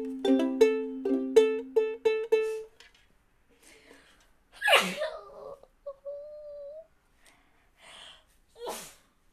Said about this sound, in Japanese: くしゃみ